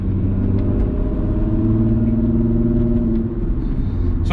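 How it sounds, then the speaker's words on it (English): A Volkswagen MK4 R32 drives along with a steady, loud low engine drone and rumble, holding an even note without talk. "this is my first time actually driving an R32"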